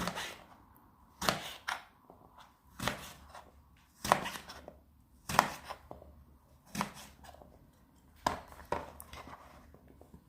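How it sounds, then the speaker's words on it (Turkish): Kitchen knife cutting eggplant into cubes on a board: about nine sharp, distinct chops spaced roughly a second apart, close and clear against quiet surroundings. "Patlıcanı bu şekilde dörde bölüyorum. Bakın. Küp şeklinde."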